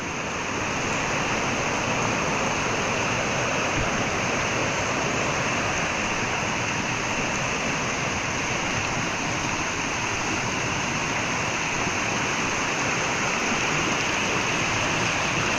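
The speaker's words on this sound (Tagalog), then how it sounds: "Biglang lumaki ang tubig." Swollen stream water rushing in a steady, loud, unbroken roar that holds at constant level throughout, with no voices or other sounds breaking through.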